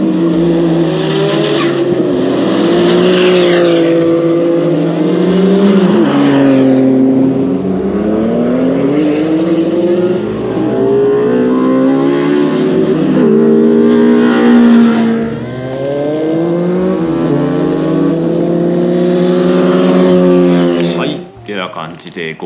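Race cars run through a corner at the GOLDEX Honjo Motor Park circuit, with engine noise continuing steadily in the background while someone talks over it throughout.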